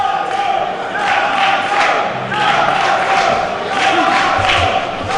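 Wrestling crowd in a Philadelphia arena, split into two sides, cheering and trading rhythmic chants back and forth; a loud, sustained roar with pulsing chant beats throughout.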